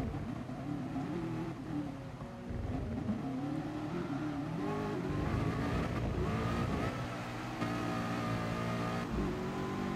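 A Nissan GT-R race car engine in Gran Turismo Sport revs and accelerates, rising and falling in pitch with gear changes, a loud steady roar with other cars nearby and brief tire noise.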